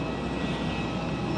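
An airplane flying overhead outdoors gives a steady, fairly loud engine roar throughout.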